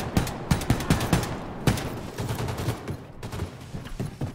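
Rapid bursts of gunfire from Wolfenstein II: The New Colossus, sharp repeated shots in uneven volleys across the whole stretch, loud and close with no voices.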